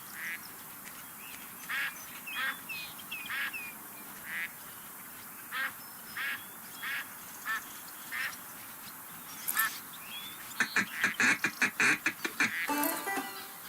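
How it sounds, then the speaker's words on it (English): Ducks quack in the Duck Dynasty video game, first as evenly spaced single calls, then as a faster cluster of overlapping quacks near the end, fairly loud and close. "Hey, there's some ducks coming in."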